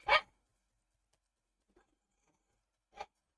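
A dog grumbles close by in two short, breathy bursts about three seconds apart, with near silence between them.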